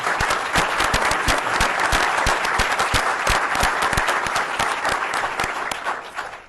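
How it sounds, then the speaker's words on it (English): Sustained applause from an audience at an event with state and local elected officials, honoring a county executive; dense clapping holds steady across the whole stretch and tapers slightly near the end. "Let's give him a round of applause."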